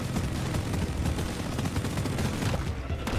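Rapid automatic gunfire in a video game, a dense, continuous stream of shots that tears through enemy armor, loud and sustained without pause.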